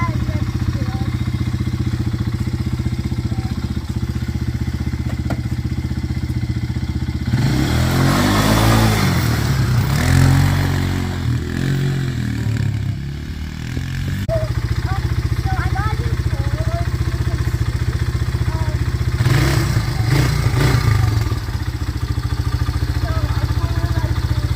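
An ATV four-wheeler engine on a ride: a steady idling rumble with two louder revving bursts, one longer in the middle and a shorter one later, with no talk heard.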